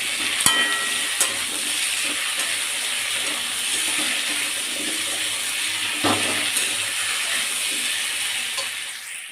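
Potato and pumpkin pieces frying in a pan as tomato and green chilli go in, giving a steady close sizzle throughout with occasional stirring clicks and scrapes.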